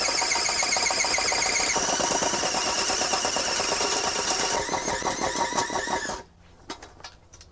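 Engine-powered auger straining to bore a planting hole in hard ground in a garden; a loud, rattling, high-revving engine whine with shifting pitch and rapid chattering, then it abruptly cuts out near the end, leaving quiet scuffing.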